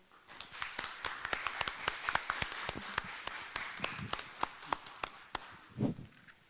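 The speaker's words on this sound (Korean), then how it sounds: "큰 박수로 환영해 주십시오." A small audience claps to welcome the chairman of the Ansan citizens' association at a candidate forum; scattered, distinct claps that thin out near the end.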